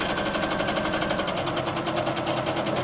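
A sewing machine stitches a drawstring bag with a fast, even, rapid ticking hum, steady and close throughout.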